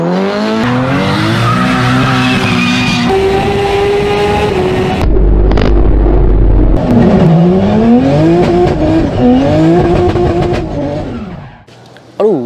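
KYMCO RTS 135 and RTS R165 scooters ridden on the Lihpao small circuit race track, their loud engines revving and shifting pitch through acceleration and braking, with one sweeping pass-by before fading away.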